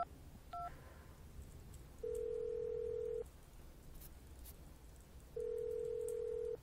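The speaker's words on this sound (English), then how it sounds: "I completely forgot that I've got a phone. And I can ring Oscar" A telephone in the video game Syberia 2 dials with a quick pair of short tones, then two long, steady ringing tones with a silent gap between them, heard over a low ambient background.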